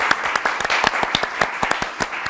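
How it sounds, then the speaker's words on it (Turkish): A studio audience on a Turkish word-game show breaks into loud, dense applause, rapid sharp hand claps that carry on steadily and close for a couple of seconds. "Bir de size kocaman bir alkış veririz"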